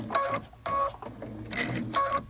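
Sewing machine stitching appliqué on cuddle fabric in short bursts, four quick runs of rapid mechanical whirring separated by brief pauses, close and moderately loud.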